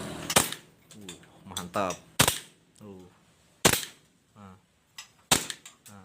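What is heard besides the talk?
Glock KP 18 pistol firing in single-shot mode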